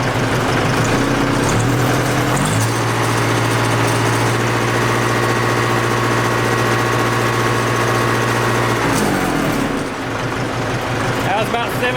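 Diesel engine of a 1964 Ford 4000 tractor idling loud and close, a steady low rumble that settles into an even hum, shifting pitch briefly near the start and end.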